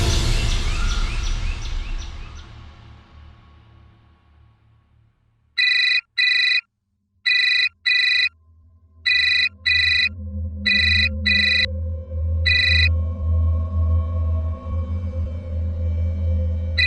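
A telephone rings in repeated short double bursts, loud and close, with a low steady hum underneath and quieter stretches before the rings begin.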